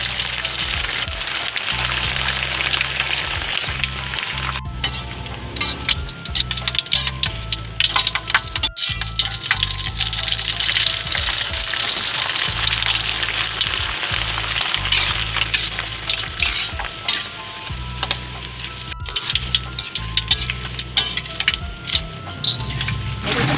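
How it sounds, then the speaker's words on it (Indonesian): Red prawn crackers fry in hot oil for nearly half a minute, a steady loud sizzle and crackle with stirring clatter and brief pops, no voices. "Lalu kita goreng kerupuk merah seperti biasa."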